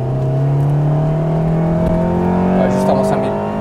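Honda CRX EE8 with a VTEC engine revving steadily as it accelerates, a loud, rising engine tone heard from inside the car, with people talking over it.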